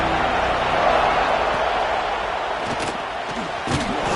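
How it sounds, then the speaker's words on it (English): Loud, steady roar of a large football stadium crowd in Happy Valley on third down, a broad wash of noise that swells briefly near the end. "Here comes the noise from this big crowd in Happy Valley on third down"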